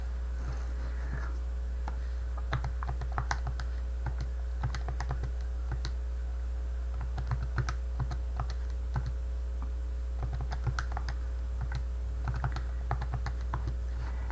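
Fingers tap data into a graphing calculator in quick, irregular bursts of soft button clicks over a steady low electrical hum, close and fairly quiet throughout.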